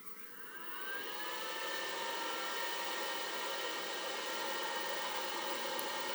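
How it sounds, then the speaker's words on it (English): A solar charge controller's cooling fan whirrs, swelling up at the start and then running on at a constant level, smooth and unbroken. "I just heard this charge controller just taking up the slack. Fan come on"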